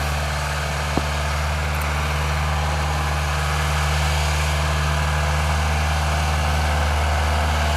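A 1990 Case 410C backhoe engine runs at a steady low idle, a constant heavy rumble heard close by with one faint click near the start and no talking.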